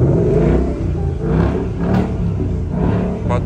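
A stock car engine revs up and down in several surging pulses at a car event, a rough, loud rumble close by with no talking.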